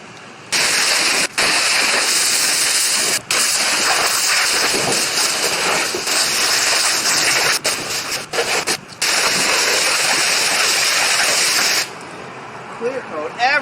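Water sprays over a 1998 BMW 328is during a rinse, a loud continuous hiss broken by a few short gaps as the spray stops and restarts.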